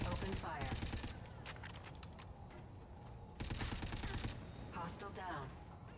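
Rapid video game gunfire, bursts of automatic shots in quick volleys that stop and start several times, with a game voice speaking under the shooting.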